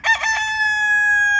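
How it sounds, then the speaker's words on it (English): A rooster crows once, near and loud, its harmonic call holding steady for over a second, with no talk around it. "When they see me, they both jump up on the fence and they take turns crowing."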